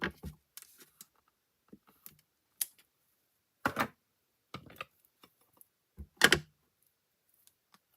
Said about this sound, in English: I'm just stamping all these sentiments because I'm not sure where I'm going to put them yet.